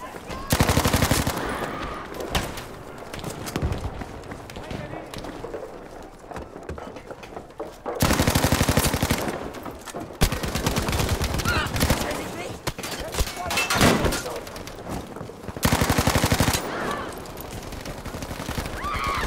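Bursts of Type 100 submachine gun fire in Battlefield 5, rapid automatic volleys coming in several loud bursts separated by quieter battlefield noise, with some voice audible in the mix.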